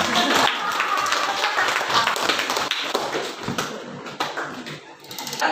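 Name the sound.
class applauding a student's explanation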